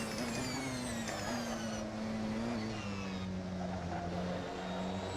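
A Porsche 919 hybrid race car in the Assetto Corsa racing game accelerates under boost at Le Mans, with a steady, loud engine drone and a rising whine and no voices.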